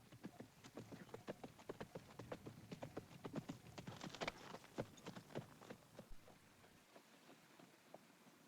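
A ridden horse's hooves clip-clop at a walking pace, sharp repeated strikes, fairly close and steady, then fading out near the end with no voices.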